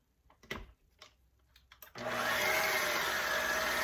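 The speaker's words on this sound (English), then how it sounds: "now I'm going to mix the 6 tablespoons of powdered sugar and 1 stick of butter" An electric mixer starts up to cream a stick of butter with powdered sugar for shortbread cookies; a few soft knocks and handling sounds come first, then a loud steady motor whir runs to the end.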